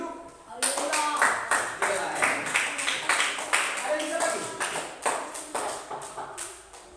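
A classroom of students claps hands in steady, rapid applause that starts abruptly and continues for several seconds, gradually thinning out toward the end.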